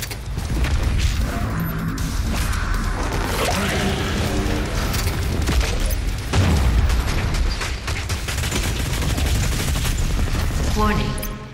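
The BFG 10,000 fires in DOOM with dense, continuous heavy blasting and mechanical clatter, loud throughout, beneath intense game music and a repeated synthetic announcer voice.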